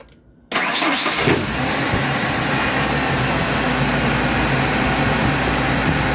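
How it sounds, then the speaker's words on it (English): A truck engine cranks briefly after near silence and then catches, settling into a loud, steady idle rumble that runs to the end without any voices. "I will cut the truck on."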